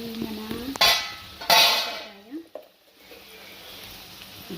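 Cluster bean pieces hit a hot pan in two sharp, loud bursts of sizzling, followed by softer stirring scrapes and a low, fading fry.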